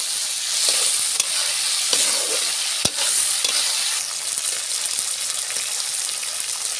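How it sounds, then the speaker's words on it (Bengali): Chicken pieces dusted with turmeric sizzle loudly in a hot pan while a spatula stirs and scrapes them, giving a constant close frying hiss broken by sharp clinks and knocks of the utensil, with no talking. "দিয়ে মুরগির মাংসটা ভালো করে নেড়ে ভাজা করে নেব"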